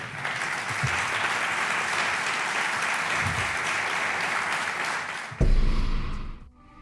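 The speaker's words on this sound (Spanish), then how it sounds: "Un aplauso, por favor." Applause from an audience on a paranormal talk show, steady sustained clapping lasting several seconds before ending with a louder swell and then fading.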